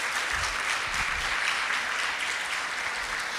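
Church congregation applauding steadily throughout, a dense even patter of many hands filling the room with no talk over it.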